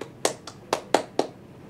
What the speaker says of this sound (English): A lot of clapping, right?